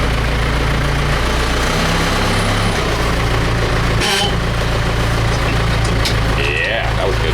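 A Case 588 forklift's diesel engine idles close by with a steady low rumble, its pitch shifting as it revs slightly, while a person speaks over it.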